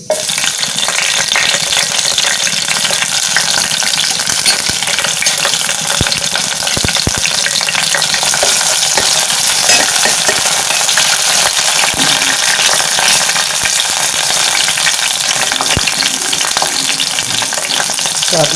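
Green chilies fry in hot oil in a pan, giving a loud, continuous sizzle with occasional small stirring clicks throughout.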